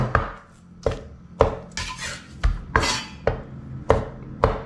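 Sharp knife chops strike a cutting board one after another in an uneven rhythm as shiitake mushrooms are sliced, close and crisp, with no talking.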